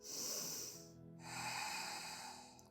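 A deep inhale during a yoga session, followed by a short pause and a second long breath. Two broad, airy breaths sound close to the microphone, with no talking.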